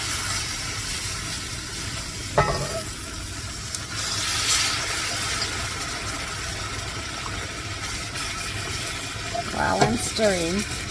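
Liquid being stirred in a pan during roast beef gravy-making, a soft continuous scraping and sizzle with a low steady hum underneath and a few brief clinks near the end.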